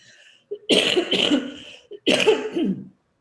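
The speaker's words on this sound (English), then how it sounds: "I'm glad that's the first time I've coughed during this webinar" A woman at the tail end of a nasty cold coughs twice close to the mic, a harsh double cough followed by a second single burst, alone with no talk.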